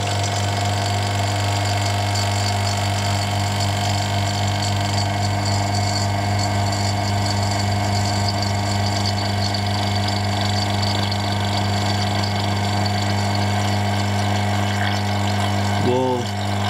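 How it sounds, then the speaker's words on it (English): A vacuum pump runs steadily on a vacuum chamber holding beer, a loud continuous mechanical hum with strong low tones and even, unbroken drone throughout, close and constant with no breaks until a brief change near the end. "And now let's turn on the pump."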